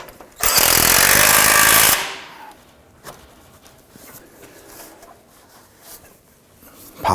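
A power tool snugs down an intake manifold bolt on a 2015–2020 Ford F-150 2.7L V6, a loud rattling impact burst lasting about one and a half seconds, followed by quiet clinks of parts.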